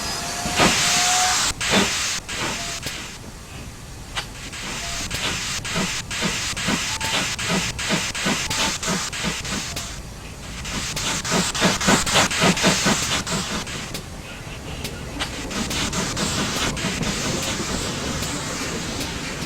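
GWR Small Prairie steam locomotive in Train Simulator, loud broadband steam hissing that swells and fades over several long bursts, with rapid clicking and clanking mixed through and no speech.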